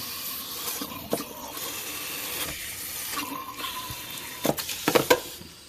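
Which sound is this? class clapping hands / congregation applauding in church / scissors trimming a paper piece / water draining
water draining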